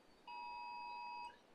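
A single steady electronic beep from a phone's text message notification, lasting about a second, clean and moderately quiet over faint background hiss.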